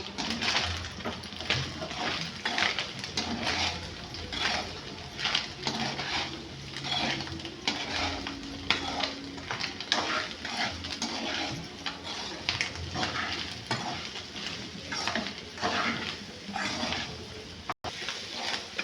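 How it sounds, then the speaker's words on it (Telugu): Gongura leaves fry in a pan while being stirred, giving a steady sizzling crackle with frequent scraping clinks of the spoon against the metal, continuous and close. "ఆల్మోస్ట్ మనకి గోంగూరలోకి సరిపడినంత వేగేసినాయండి."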